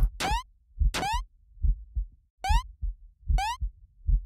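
A loud, steady heartbeat from the video game Eversion, with paired thumping beats repeating about once a second alongside short rising tonal chirps, and no one talking over it.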